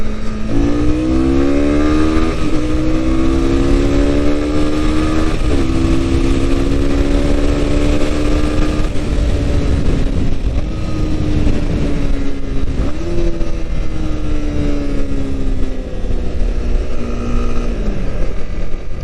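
A Honda CB250R motorcycle engine revving hard on the road, repeated rising whines climbing through the gears with brief dips at each shift, loud and close with steady wind and engine roar beneath.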